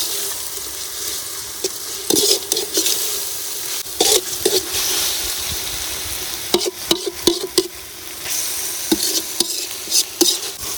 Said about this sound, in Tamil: இஞ்சி பேஸ்ட்டு, பூண்டு பேஸ்ட்டு, நல்லா கலக்கி விட்டுப்போம்.